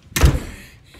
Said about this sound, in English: close the door on your way in.